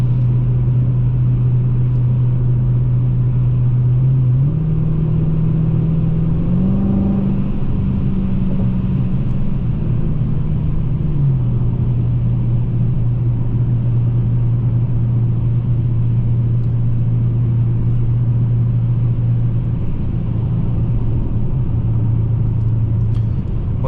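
A steady low V8 exhaust drone from a 2017 Dodge Challenger Scat Pack 392 cruising at speed, its pitch rising slightly and then settling back, with constant road rumble underneath and no talking.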